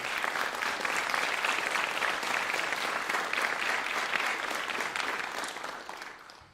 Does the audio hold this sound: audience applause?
yes